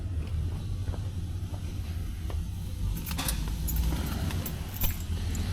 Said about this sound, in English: Whole bunch of keys